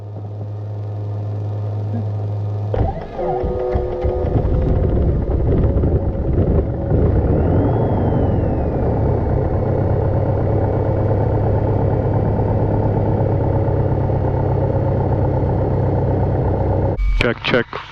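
A Piper Cherokee 140/180 light aircraft engine cranks and catches, then settles into a loud, steady idle that drones on close by, with a brief burst of noise near the end.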